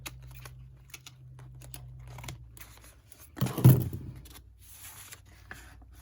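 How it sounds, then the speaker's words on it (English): Scissors cutting through a paper napkin, a few soft snips followed by one louder crisp slicing cut partway through, close up, with faint rustling around it and no talking. "Paula, don't cut the page, cut the napkin."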